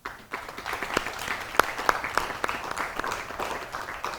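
Audience applause at a televised stroke telethon, dense continuous clapping from the studio crowd with several crisp individual claps popping out, moderately loud throughout.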